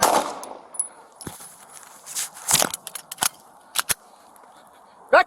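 During a liquor store robbery with police present, several sharp gunshots crack out in an irregular burst, loud and close, mixed with metallic clangs and scuffling in an otherwise hushed scene.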